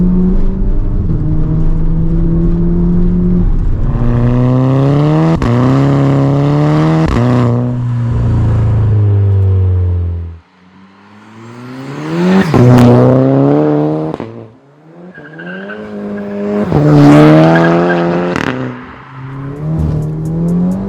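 A Skoda Laura swapped to a 2.0L TSI engine with a Stage 3 setup accelerates hard through several gears, loud and close, its engine note rising and dropping between shifts with no talking.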